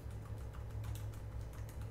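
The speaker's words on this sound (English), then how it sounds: "I don't know if you can hear the keys clicking" Computer keyboard keys click in quick irregular taps during a Minecraft session, faint and soft beneath a low steady hum.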